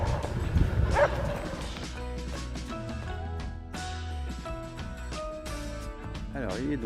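Several dogs bark and yip in short, sharp bursts along a mountain ridge trail in the Pyrenees near Bidarray, moderately close, with people talking between the barks.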